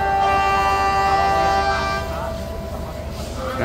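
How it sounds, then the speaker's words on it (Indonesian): The Progo train departs Purwokerto station, sounding a long, loud multi-tone horn that holds for about two seconds before fading into the rumble of the moving train. A voice speaks over it. "Kereta Api Progo berangkat."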